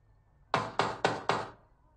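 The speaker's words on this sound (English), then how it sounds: "someone knocking on their door" Four evenly spaced, heavy knocks on a door in a horror film, sharp and loud against near silence, with no voices.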